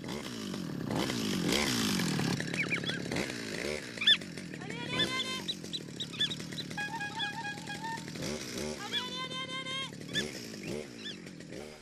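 A chainsaw running to imitate the sound of an ultralight aircraft gives a buzzing engine drone that rises and falls in revving pitch, with bird calls and a voice mixed in.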